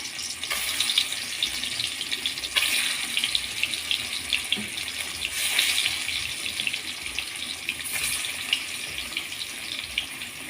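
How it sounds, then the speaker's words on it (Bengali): Pieces of a large fish fry in hot mustard oil in a wok, giving a constant crackling hiss. The sizzle swells in brief surges every few seconds. No voices are heard. "মাছগুলো, তেলটা গরম হয়ে গেছে, মাছগুলো আমি কড়াইতে দিয়ে দিচ্ছি"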